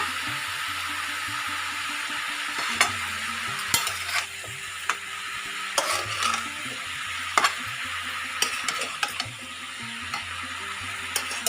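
Chopped green chillies frying with salt and black pepper in a pan for a Nabaratna vegetable dish, a steady close sizzle with a low background hum and scattered clicks and scrapes of a spatula, no talking.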